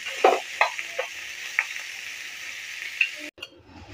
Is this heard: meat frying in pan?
yes